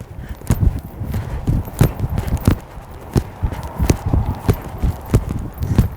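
Horse cantering through dressage tempi flying changes, hoofbeats thudding in a steady rolling rhythm close by with soft clip-clop accents and no talk over them.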